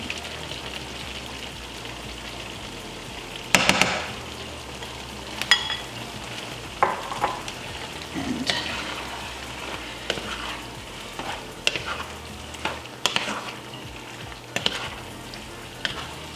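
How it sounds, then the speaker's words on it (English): Eggs poured into a hot frying pan and stirred for a zucchini pie, a continuous sizzle under scattered sharp utensil scrapes and taps against the pan. "Now I add the eggs into the pan."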